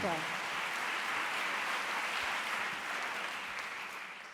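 An audience at a French panel debate on workplace equality applauds, a broad, continuous patter of clapping that holds steady before fading slightly toward the end.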